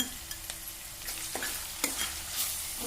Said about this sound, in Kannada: ಸ್ವಲ್ಪ ಹುರಿಬೇಕವು